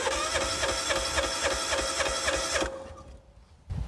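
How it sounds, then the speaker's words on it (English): A lawnmower engine cranks over with a rapid, even mechanical churning that runs steadily for a few seconds, then stops abruptly, leaving quiet before a faint noise returns. "On this lawnmower, if I just keep the throttle down to 0, I do know that it won't crank."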